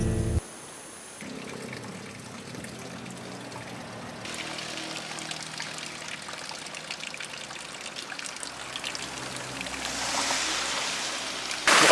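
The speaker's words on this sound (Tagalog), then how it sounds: "Mukhang ito na yung hinahanap nating tubig." Stream water flows and trickles steadily in an outdoor spot being scouted for an eco pump, a soft continuous babble that swells slightly toward the end, with no talking.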